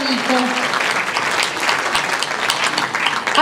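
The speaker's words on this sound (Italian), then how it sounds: "Un altro applauso per Massimo Troisi, oserei dire, suo grande amico." A television audience applauds Massimo Troisi during a musical tribute show, dense sustained clapping at fairly loud level filling the whole stretch, with a hint of voices underneath.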